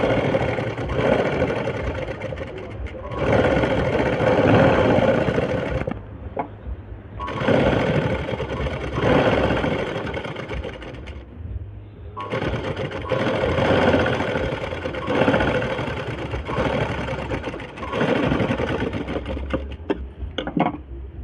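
A sewing machine stitches along a dress shoulder being taken in, running in loud, close bursts of rapid mechanical whirring separated by brief pauses, with no talking.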